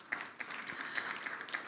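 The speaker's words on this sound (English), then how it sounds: "A big round of applause, please, for him." Steady audience applause at a conference hall after a presentation, a dense wash of clapping from many hands held at an even level throughout.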